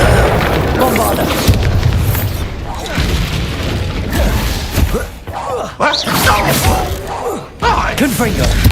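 A Bombarda spell explosion in the Hogwarts Legacy video game lands among heavy booms and clattering impacts, with a voice shouting in a busy combat mix.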